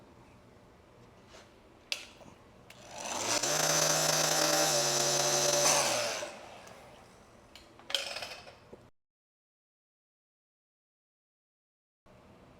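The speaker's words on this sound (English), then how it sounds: "So now we'll take our heat gun, we'll let that coat dry" A heat gun blows on fresh paint during a 2012 Ford Escape refinish, a loud steady broadband rush with a low hum lasting about three seconds, framed by scattered clicks and handling noises before falling silent.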